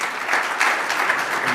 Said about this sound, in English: So give Marques a round of applause.